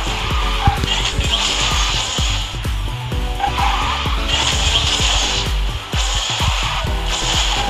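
A car in the Garena Speed Drifters racing game drifts with long tire squeals and skidding over a loud, revving engine and game music, intense and continuous throughout.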